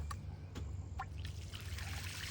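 Water trickling and sloshing during a rinse to flush out iron particulates, a steady close stream with a few splashy drips over a low continuous rumble, no talking.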